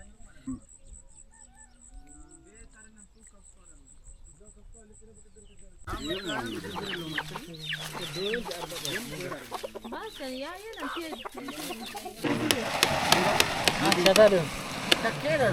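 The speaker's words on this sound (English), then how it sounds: "it's super loud in this camp with the cows, the roosters, and all the people" Roosters crow and chickens cluck in a noisy outdoor tribal camp in Ethiopia, with quiet voices at first and cow and crowd noise building up later.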